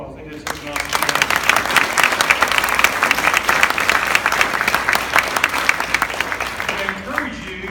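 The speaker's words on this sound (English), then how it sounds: "I think those three need another round of applause." Sustained applause from a gymnasium crowd at a school DARE graduation in 2016, dense clapping that swells quickly, holds steady for several seconds, then fades near the end.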